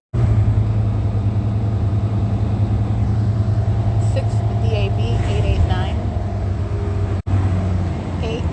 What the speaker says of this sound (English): I'm sitting on bus, Omnitrans bus, Route 83, that's headed southbound on Euclid Avenue toward the city of Chino